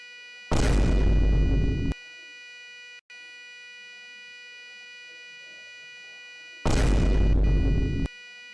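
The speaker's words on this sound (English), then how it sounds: "A deafening blast tears through the cafeteria, shattering windows, flipping tables" A bomb explosion tearing through a school cafeteria, heard as two loud, broadband blasts roughly six seconds apart, each a sustained roar lasting over a second, with a steady tonal hum beneath and quiet between.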